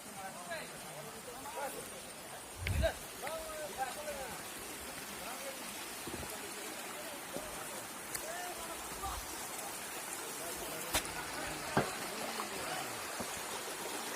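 Waterfall at Demul with broad, steady water rush filling the scene throughout, a constant noisy wash with a few brief knocks and splashes, while voices talk intermittently nearby.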